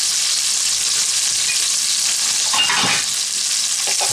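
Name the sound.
tri tip searing in a cast iron Dutch oven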